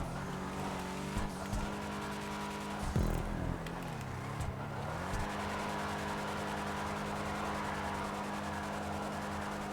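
Schyster Deviant car drifting on a course in GTA 5 Online, steady engine drone with rising and falling revs and tire squeal during slides, no talking.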